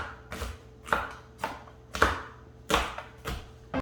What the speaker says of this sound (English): now you just want to chop it up a little bit